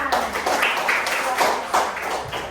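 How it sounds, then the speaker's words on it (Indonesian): Schoolchildren in a classroom clapping in a steady, patterned rhythm after a student answers, with several crisp claps in a row close by and faint background noise. "kita berikan tepuk tangan"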